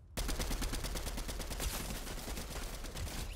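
Shotgun fire in the Fortnite video game, a rapid burst of loud blasts over a steady game soundscape, close and dense throughout.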